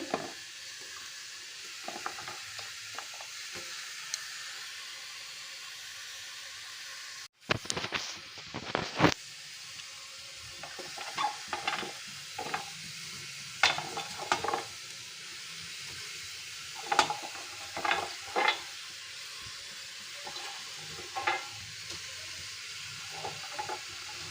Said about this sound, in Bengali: প্রথমে আমি ব্রোকলিটা দিচ্ছি এবং লাউয়ের টুকরোগুলো